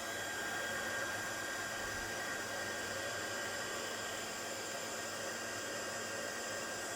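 A heat embossing tool blows hot air over a craft tag, a steady whirring blower hum with a constant airy hiss that holds throughout.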